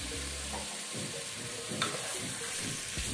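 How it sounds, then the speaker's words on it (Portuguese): Beef for a Brazilian pot roast sizzles and fries in the bottom of a pot, a steady faint crackling hiss with occasional louder pops and a stir, no voices. "Agora eu vou deixar dar uma fritadinha aqui."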